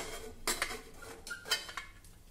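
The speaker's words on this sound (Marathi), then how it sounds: "कुकर थंड झाला आहे। आता आपण हा उघडून घेऊया।" A pressure cooker of cooked rice is opened after cooling, with a few quiet metallic clanks and scrapes of the lid and pot in a calm kitchen.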